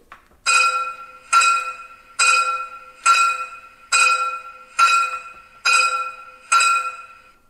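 A 1:32 scale model of a class 97.1 rack-railway steam locomotive rings its bell in a steady rhythm, eight bright clanging strokes evenly spaced, each ringing out briefly before the next.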